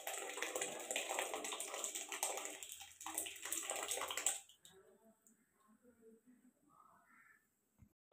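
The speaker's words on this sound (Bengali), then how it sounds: "দেখো সব ডালটা এখন ঢেলে দিচ্ছি এর মধ্যে।" Dry dal lentils pour into a pan for a cauliflower dish, a dense sandy rush of grains hitting the metal for about four seconds before settling into quieter stirring clinks and faint kitchen noise.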